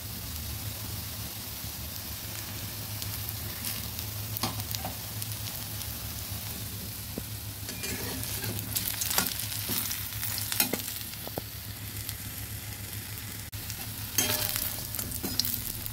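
Moringa leaf pakoras fry in hot oil with a steady close sizzle and occasional stirring scrapes, heard alone without talk.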